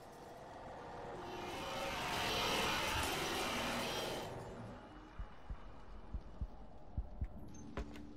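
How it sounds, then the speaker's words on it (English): A rhythmic heartbeat from the Roblox horror game Doors thumps in a steady series of low, soft pulses after a swelling whooshing rush fades out. "Why is my heart beating?"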